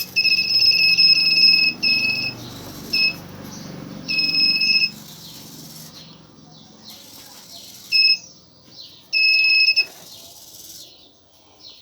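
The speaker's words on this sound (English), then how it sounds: "It detects the transmission of the waves and the reception of the waves, and it will trigger the buzzer." The buzzer of an ultrasonic obstacle sensor on a homemade social-distance warning cap beeps in several bursts of uneven length, high-pitched and steady-toned, with quiet background noise and faint rustling between.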